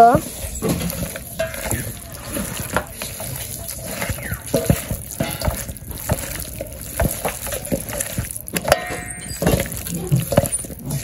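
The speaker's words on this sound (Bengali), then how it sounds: "মাখিয়ে নেই মাংস" Meat is mixed by hand with salt and spices, giving wet squelching, slapping and squishing sounds in an uneven rhythm, close and fairly loud, with faint background noise.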